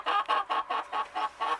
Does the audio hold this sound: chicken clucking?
yes